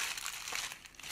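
A plastic bag holding small M3 screws crinkles briefly and faintly up close, ending in one slightly sharper rustle.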